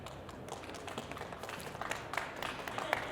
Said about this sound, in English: Not often do we get real applause, so we'll take it now before we start.